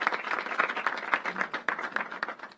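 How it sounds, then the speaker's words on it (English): Applause for a reverend at a senators' press conference on a cannabis reform bill: a steady patter of many hands clapping, fairly close and continuous throughout. "Let's give the Reverend a big round of applause."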